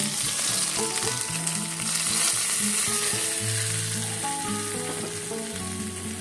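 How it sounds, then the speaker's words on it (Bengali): Steady, crackling sizzle of a hot oil spice tempering in a pan for doi begun, continuous and fairly loud, with some clattering and tonal hum in the background. "এখন ওপর থেকে এই ফোড়নটা আমি এখানে অ্যাড করে দেব।"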